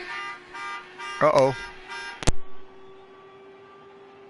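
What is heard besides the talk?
alarm sounding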